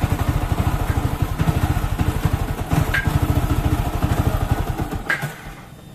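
A Yamaha Vixion motorcycle engine idles close by with a steady, rapid chugging pulse and some mechanical clatter, then sags and fades near the end; the bike has a battery that keeps going flat.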